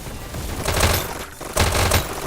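Rapid bursts of SMG gunfire in a VR esports match, two loud clusters of fire separated by a short gap, heard alone without talk.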